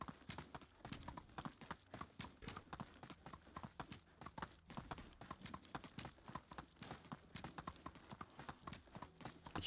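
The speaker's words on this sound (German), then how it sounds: "Versuche jetzt mit dem Esel nur den Weg lang zu reiten." Donkey hooves walking along a path in the Medieval Dynasty video game, a steady, even clip-clop of footfalls at a walking pace, faint but clear throughout.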